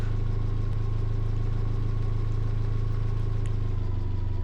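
Tractor engine in the Farming Simulator video game running at a steady idle, with a constant loud low drone and an even mechanical throb throughout and no talking.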